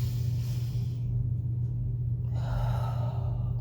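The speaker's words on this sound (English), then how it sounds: "breathing in deep into the belly." A slow, deep inhalation drawn into the belly in three parts, airy and close-miked, over a steady low background hum.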